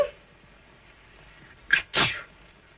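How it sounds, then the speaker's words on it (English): A girl sneezes twice in quick succession, a short catch followed by a fuller, louder burst, close by in an otherwise quiet room. "My goodness, she sneezed."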